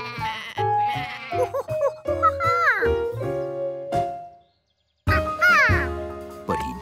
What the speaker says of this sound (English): A sheep was escaping.